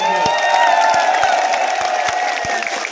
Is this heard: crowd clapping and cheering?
yes